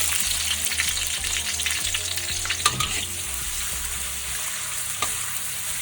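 Onion hitting hot oil in a wok sizzles and crackles steadily while being stirred, with a couple of sharp clatters of utensil against the pan, close and continuous.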